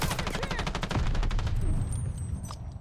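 Rapid automatic gunfire in Call of Duty Vanguard, a fast rhythmic rattle of close, loud shots that thins out toward the end.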